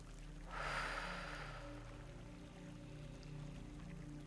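A single long breath blown out after a deep inhale, a soft airy exhale lasting about a second near the start, then quiet background hum.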